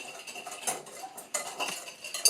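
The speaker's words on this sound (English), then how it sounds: "So mix it together and stir to mix" A spoon stirs a cup of sugar and a teaspoon of cinnamon powder together in a bowl. Quiet, close scraping and light clinking repeat in an irregular rhythm, with no voices.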